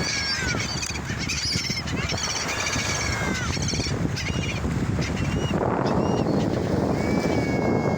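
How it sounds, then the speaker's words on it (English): Seagulls call near a boat, shrill overlapping squawks and long wailing cries rising above a constant rush of engine and water noise, with voices faintly in the mix. "Bye, all of Anna's bird friends"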